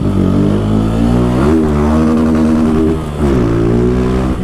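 A modified motorcycle exhaust revs hard and close, a loud, raspy engine note climbing in pitch, dipping briefly, then revving up again, with no voices over it.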